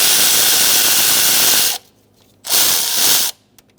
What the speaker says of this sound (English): I'm going to remove this bolt as well, just so I have a little bit more slack with this wiring harness